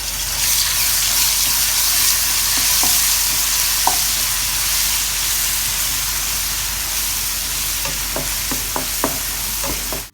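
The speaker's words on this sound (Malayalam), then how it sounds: "ആ വറുത്ത എണ്ണയിലേക്ക് ഇഞ്ചിയും വെളുത്തുള്ളിയും ചതച്ച് വെച്ച് ഇട്ട് കൊടുക്കാം." Crushed ginger and garlic frying in hot oil for a green chicken biryani, a loud continuous sizzle throughout, with a few light clicks of a spoon stirring near the end.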